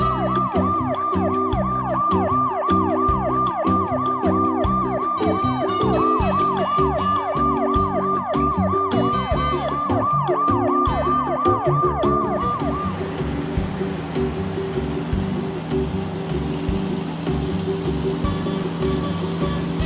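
A police car siren wails loudly and close in a rapid repeating rising-falling yelp, then shifts to a rougher noisier tone for the last stretch, with no talking over it.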